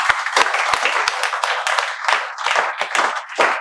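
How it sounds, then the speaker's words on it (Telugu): A class applauds together in a welcome, with dense, steady clapping from many hands throughout and a few sharp individual claps at the start. "మీరు ఈ వీడియో చివరి వరకు చూడాలని మేము చప్పట్లతో వెల్కమ్ చెప్తున్నాం."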